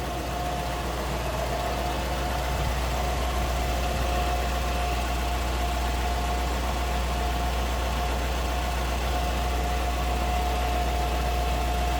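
A 1956 Lincoln Premiere convertible's stock engine idles smoothly and steadily, a continuous low hum with a faint whine, close by and alone without talk.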